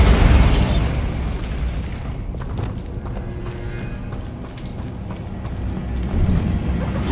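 A Bombarda blast spell going off in Hogwarts Legacy, a loud booming burst at the start that trails into rumbling debris and lingering game ambience.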